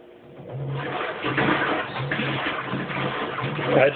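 Kenmore Oasis washing machine filling with water and agitating, a steady watery rush with rhythmic churning pulses about every half second, close and fairly loud.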